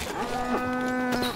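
A donkey in the survival video game INCUR Survival gives a drawn-out, tonal braying call that holds steady for over a second, loud and close with no talk over it.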